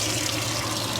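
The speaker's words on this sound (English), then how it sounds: "That is water pressure straight from the water pump." Water gushes steadily from an RV faucet fed by its water pump, a loud, close, continuous rushing splash with no other sounds.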